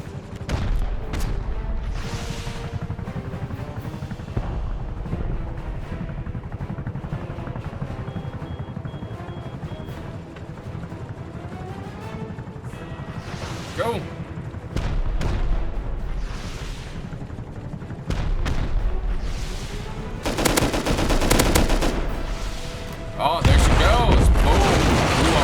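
Rocket turrets in the game Rust fire a rapid barrage, with repeated booming blasts and explosions building to louder bursts near the end, while a player talks over the action.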